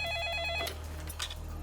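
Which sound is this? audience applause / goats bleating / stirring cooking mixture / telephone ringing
telephone ringing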